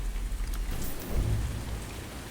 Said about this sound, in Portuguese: Acho que é por causa da chuva, por isso que tá afetando a câmera.